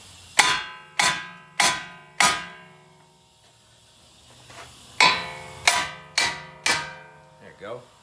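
A hammer strikes the flat spots of a Dodge Journey brake rotor during ball joint work, giving sharp metallic clangs in two bursts, four blows then a pause, then four more, each ringing briefly and close by.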